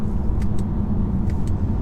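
A 2018 BMW 430d coupe with a rear-wheel-drive diesel engine, heard while driving: a steady low engine drone and road rumble from inside the cabin, moderately loud and even, with a few faint ticks over it.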